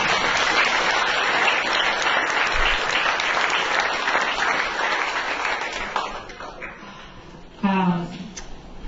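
Audience applause at a community literacy storytelling event, a long sustained round of clapping from a crowd that fades toward the end before a voice briefly speaks over it.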